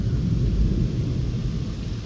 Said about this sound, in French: Ah mais sérieusement, c'est quoi cet orage?